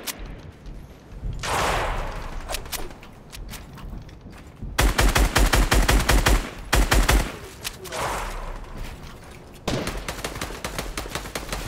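Gunfire in a Fortnite arena match, with sharp rapid bursts of automatic fire and single cracking shots, loud and close, alternating with quieter stretches of game ambience.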